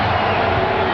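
Basketball arena crowd roaring steadily through a Chicago versus Phoenix game, a dense continuous wash of cheering and chatter, with a commentator's voice faintly under it.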